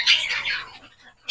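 A cockatiel gives a loud, shrill squawk that fades over about a second, followed by a brief sharp call at the end.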